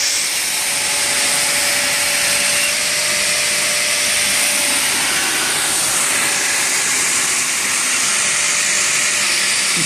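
A belt grinder with a coarse 36 grit belt grinds a blade on the flat platen, giving a loud, steady, unbroken abrasive roar and hiss that fills the whole stretch.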